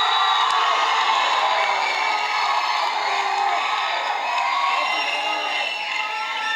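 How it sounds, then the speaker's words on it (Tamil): A large event crowd cheering and whooping for the actor Santhanam, a dense, continuous roar of voices at steady loudness throughout. "சந்தானம் அவர்களே ஒரு பெரிய கைத்தட்டலோட"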